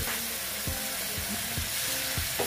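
Soaked, pre-fried moong dal tipped into a hot pan of ridge gourd, hissing in a steady broad sizzle with a few soft stirring knocks spaced through it, close and fairly loud, no talking.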